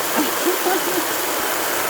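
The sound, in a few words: steam washer spraying water under pressure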